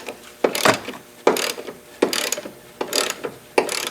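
A ratchet wrench loosens the bolts on the front shock mount of a vehicle with stock Bilstein B8 shocks, giving five or six close, crisp clicking bursts at a steady rhythm with no talk.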